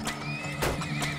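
Horses whinny and neigh in the oil-drilling video game Turmoil, with several high, wavering calls repeating over a busy game background, with no talk.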